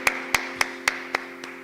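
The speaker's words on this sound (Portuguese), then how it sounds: "dê uma linda salva de palmas para o Senhor Jesus Cristo" A church congregation clapping in a slow, steady rhythm, six evenly spaced sharp claps fading slightly in loudness over a faint background hum.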